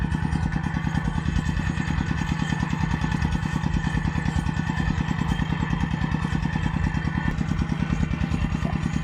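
An engine-driven water pump runs steadily nearby at a fish pond, its motor chugging in a fast, even thumping rhythm that never lets up.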